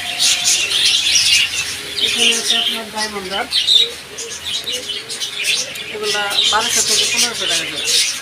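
Lovebirds and other small caged birds chirp and squawk in a busy bird shop at a market in Tangail, with shrill calls overlapping steadily while people talk nearby.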